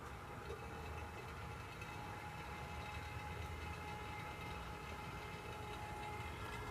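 A BG coolant flush machine draws fluid out of a vehicle's coolant overflow tank through a suction wand, giving a steady, continuous motor hum and drone that holds evenly throughout, fairly close, with no talking.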